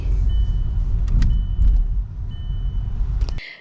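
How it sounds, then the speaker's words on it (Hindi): A car turning around in a narrow lane, its engine rumbling steadily and close, with brief clicks and a faint electric whine, ending in a sharp clunk. "एक तो ये पतली सी गली में पूरा 360 डिग्री गाड़ी घुमाना पड़ता है"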